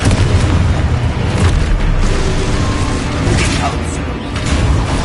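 The Confringo blasting curse sets off a loud, sustained explosive roar with rumbling booms and bursts, dense and close throughout, with voices heard among the blasts.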